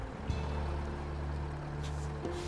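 A truck engine in the SnowRunner off-road driving game runs at a steady idle, a low continuous hum with faint background trickling.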